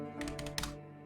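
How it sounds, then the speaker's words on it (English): A few quick keystrokes tap on a computer keyboard, a short burst of soft clicks close by over a low steady hum, with no talking. "My typing is going to be a little bit slow."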